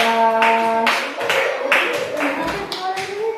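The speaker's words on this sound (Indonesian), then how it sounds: "Tepuk tangan dulu buat Jai." Audience in a classroom of teacher-training students claps their hands together, a steady mixed patter of applause lasting several seconds with faint voices mixed in.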